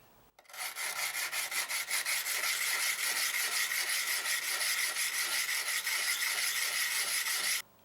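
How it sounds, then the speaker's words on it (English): Jade chisel being rubbed on a diamond sharpening stone, a continuous gritty rasping in quick, even back-and-forth strokes, close and fairly loud, starting and stopping abruptly. "a diamond sharpening stone that I picked up from Harbor Freight"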